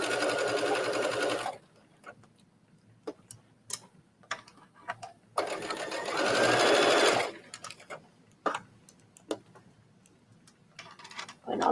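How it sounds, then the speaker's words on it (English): Sewing machine running a straight stitch on T-shirt fabric, two loud bursts of rapid, steady motor chatter separated by quieter ticking and handling clicks, close up with no talking. "I'm just going to use a straight stitch, not a zigzag, because you're not really going to stretch this section of your top"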